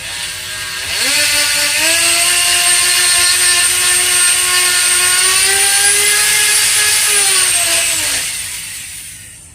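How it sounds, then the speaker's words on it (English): A Dremel rotary tool set to low speed spins up into a steady, loud motor whine while driving a Revo two-speed transmission. The pitch rises briefly at start, holds for about seven seconds, then drops as the tool winds down. "Now I'm going to set my Dremel to a low RPM and plug it in."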